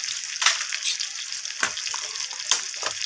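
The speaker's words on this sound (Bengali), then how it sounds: "তো সমস্ত কিছু মশলা আমি পেঁয়াজ আর টমেটোর সাথে এইভাবে একটু ভেজে নিচ্ছি" Spices fry with onion and tomato in a pan for a fish curry, giving a close, bright sizzle with a few sharper crackles and stirring scrapes, and no voices.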